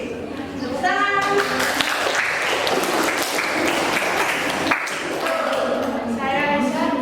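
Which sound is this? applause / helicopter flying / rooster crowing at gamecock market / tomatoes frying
applause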